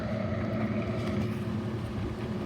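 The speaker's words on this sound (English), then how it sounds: "As you can see, the gears are spinning these small motors." Small desk fan on high spinning a model wind turbine, its gears driving small motors: a steady, close whirring mechanical drone with a low rumbling hum that holds even throughout, no talk.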